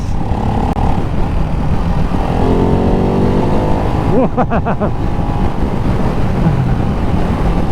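A Ducati Hypermotard 698 Mono single-cylinder motorcycle on a test ride, its engine loud and close with wind rush, rising and falling through revs and a quick burst of throttle blips midway.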